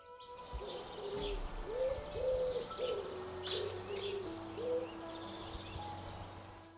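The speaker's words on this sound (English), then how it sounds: "one of a pair of collared doves who nest in our garden come down to the feeder" Collared doves cooing at a garden bird feeder, a soft, fairly close series of rhythmic three-note coos repeated several times over quiet outdoor background with faint chirps.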